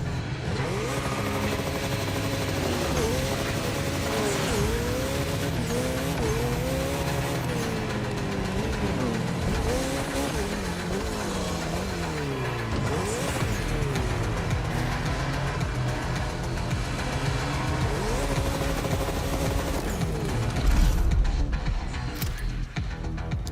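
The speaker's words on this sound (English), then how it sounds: "Let's try the hypercar real quick." A hypercar engine drives in the video game The Crew Motorfest, revving and shifting gears repeatedly with rising and falling pitch sweeps. The sound stays loud and continuous, with a heavier low thump near the end.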